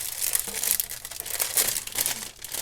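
Scrapbook supplies and packaging, traveler's notebooks, stickers and paper, being piled into a stack, giving a steady run of close crinkling, rustling and crumpling with small tearing-like crackles and no talk.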